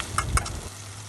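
Whole cinnamon, mace, black and green cardamom, cloves, black pepper and bay leaves hit hot oil with chopped onion, giving two quick stirring scrapes over a steady close sizzle that settles into a softer hiss.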